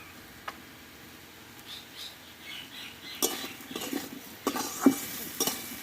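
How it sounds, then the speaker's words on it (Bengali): A spoon stirs turmeric, salt and drumstick stalks in a pan, with quiet scraping at first, then a run of louder clinks and scrapes against the metal. "দিয়ে আরেকটু আমি নাড়াচাড়া করে নেব।"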